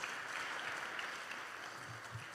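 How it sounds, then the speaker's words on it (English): A congregation at an Ethiopian Good Friday and Easter church service claps steadily for a woman, a continuous, even patter of many hands with no voices over it. "Clap it up one more time for her."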